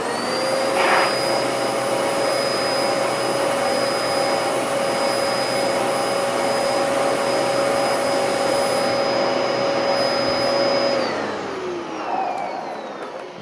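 A Dyson DC14 upright vacuum cleaner runs at a loud steady whine with a constant high motor tone for about eleven seconds, then winds down as it is switched off, close by with no talking.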